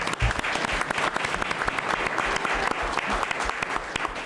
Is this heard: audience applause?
yes